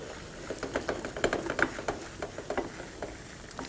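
Chickpea flour being stirred and roasted in butter for laddu, with soft, irregular scraping and light sizzling pats in a pan, steady and close with no voices.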